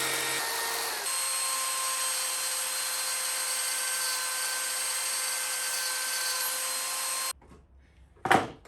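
Saw blade cutting scrap wood for a chair, a steady loud whine running for about seven seconds, then stopping abruptly, followed by a brief sharp clatter near the end.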